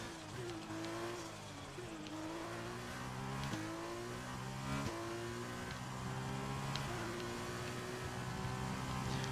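Formula One race car engine in the F1 2020 game, a high-pitched whine climbing through repeated gear shifts with brief dips between, steady and continuous under faint tire noise.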